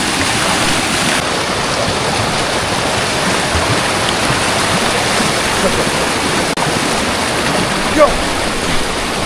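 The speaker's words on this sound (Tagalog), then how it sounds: "Dito na naman tayo sa may sapa." Strong-flowing creek water after heavy rain on a farm, a steady broadband rush filling the whole clip at close range, with a brief shout near the end.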